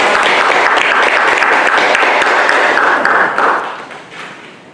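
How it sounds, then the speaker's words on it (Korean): An audience at a Won Buddhist meditation hall in Busan applauds to welcome a lecturer, a loud dense burst of many hands clapping that holds steady and then fades away near the end. "대중은 큰 박수로 맞이해 주시기 바랍니다."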